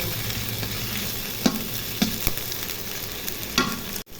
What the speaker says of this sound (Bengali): নেড়ে একটু ভেজে নিব